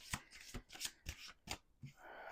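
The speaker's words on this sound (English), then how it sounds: "Okay, I think I did a 3rd shuffle." A deck of oracle cards is shuffled up close in several quick riffling bursts spaced about every half second, with a faint voice at the end.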